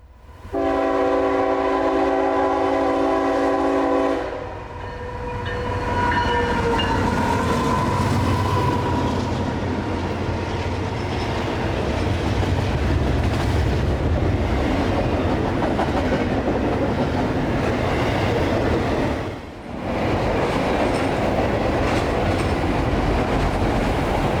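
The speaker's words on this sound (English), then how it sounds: "Just a few minutes behind 91 would be southbound Autorack and intermodal train M209 for Baldwin." A southbound autorack and intermodal freight train, M209, rolls steadily past close by, opening with a long loud horn blast before a sustained roar of wheels and cars continues to the end.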